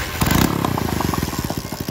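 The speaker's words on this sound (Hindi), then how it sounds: "सबसे पहले आपको बाइक स्टार्ट करते हैं, इसकी आवाज़ चेक कराते हैं सलेंसर की किस तरीके की आवाज़ आ रही है बाइक के अंदर से।" A motorcycle with a broken silencer runs at close range, a loud, rough, rapid popping exhaust beat with clattering pulses at a fast steady rhythm, with no speech.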